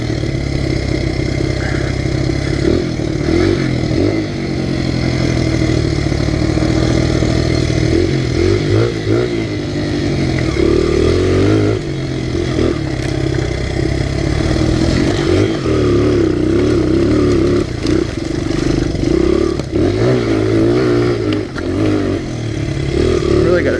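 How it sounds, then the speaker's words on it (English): A Honda XR100 pit bike with an upgraded BBR spring kit revs hard while climbing a small incline, its mid-pitched engine running loud and continuous throughout with rising and falling throttle swells and some clatter. "Really got to rev and dump the clutch on this thing when you're trying to go up a little incline"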